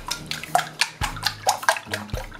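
Eggs seasoned with salt, oregano and black pepper are beaten in a bowl for a flourless sausage pie, giving a quick, steady run of sharp, close, wet strokes, about two per second.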